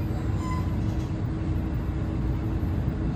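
Train running between Morris Plains and Convent Station, recorded on board: a steady low rumble and rolling wheel noise with faint high squeals, continuous and even, and no voices.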